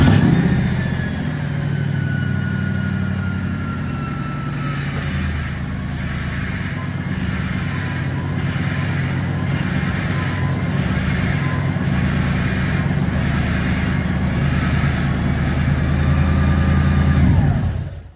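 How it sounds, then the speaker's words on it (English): A truck engine runs steadily up close for nearly twenty seconds while the steering wheel is turned each way, holding a smooth, constant drone with slight rises in pitch before it cuts off. "So now the instructions say to go ahead and crank it up and turn the wheel each way."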